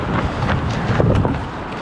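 Strong wind gusts buffet a runner outdoors, a steady roaring rush of wind across the microphone with rising and falling surges, no talking.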